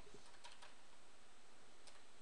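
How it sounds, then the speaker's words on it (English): Cursor keys on a computer keyboard are tapped a few times, the clicks faint and sparse against a steady low hiss. "In that case, I was just using the cursor keys to move it."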